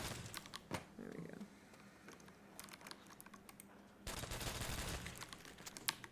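Carbine gunfire at zombies in a game, with rapid crackling bursts of shots, the densest run near the end, mixed with clicky keyboard-like tapping at moderate, fairly quiet level.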